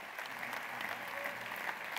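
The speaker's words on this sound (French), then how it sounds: "merci d'applaudir une dernière fois ce soir les comédiens Gudule, Marie-Noël, Geoffrey Seron" An audience at an architecture trade show ceremony in Ciney applauds the actors, a continuous, fairly even wash of clapping from a large crowd.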